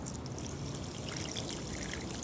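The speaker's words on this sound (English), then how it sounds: "Let's wash it off a little." Water streams steadily over a dirty MoonSwatch velcro strap while it is rinsed clean, a continuous close splashing pour with a trickling, hissy texture throughout and no voices.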